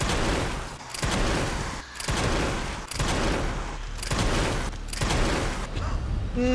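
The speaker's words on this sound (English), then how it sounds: "Unlimited Leon bullets. Let's go." Rapid, sustained bursts of weapon fire from Leon in the Resident Evil 9 video game, loud and dense with short gaps between volleys.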